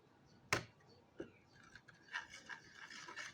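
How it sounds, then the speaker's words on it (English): Whisking pancake batter with egg in a bowl, a faint, quiet run of scraping and rubbing strokes that starts with one sharp tap and grows into an irregular brushing rhythm. "And now you just gotta whisk it now."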